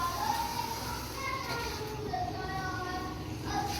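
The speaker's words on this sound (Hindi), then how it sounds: "साथ साथ बच्चे जो हैं वो शोर कर रहे हैं।" Children chatter and shout in the background of a home kitchen where rice is being cooked, a lively, continuous mix of young voices with no clear single word.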